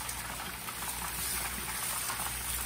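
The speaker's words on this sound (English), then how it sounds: "Fish is frying like crazy, man." Tilapia fillets, Cajun pan-seared, sizzle and spit steadily in a hot pan, a loud continuous crackling hiss close to the microphone with no talking.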